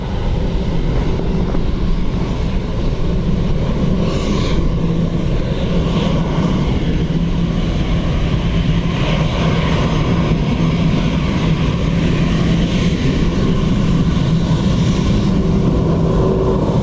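An aircraft landing on runway 28 left at Dublin Airport gives a steady, loud engine roar. The roar holds evenly throughout with no voices.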